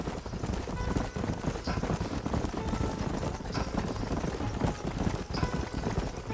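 Horse hooves clip-clop steadily across open ground in the Western video game Red Dead Redemption, a continuous rhythm of several horses riding together under a dense bed of wind and ambient game sound.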